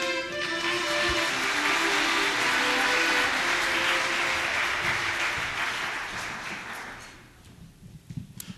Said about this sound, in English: First of all, I would like to applaud the pianist, Glenn.